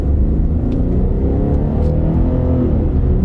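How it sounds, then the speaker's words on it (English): A used Lexus SUV engine pulls steadily under light throttle, a loud, continuous low rumble with smooth, even acceleration and no speech over it. "give it a little gas"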